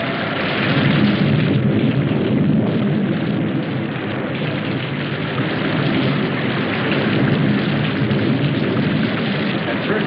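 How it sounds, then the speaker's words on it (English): Heavy, steady rain roars without a break for the whole stretch, a dense wash of noise; no distinct thunderclap stands out from the downpour. "We didn't pay much attention to the rain, though it seemed heavier than any rain we'd ever seen."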